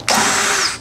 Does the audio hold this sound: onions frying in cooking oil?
no